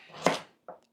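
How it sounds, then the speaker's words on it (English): A kitchen knife chops carrots on a board, with one sharp, fairly loud cut and then a second lighter chop close by. "I'll just chop these up."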